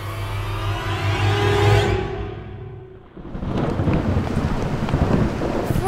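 Rain and thunder play as a sound effect in an audio drama: a deep rolling thunder rumble builds and fades, then steady heavy rain patters on a surface, all fairly loud and with no talking.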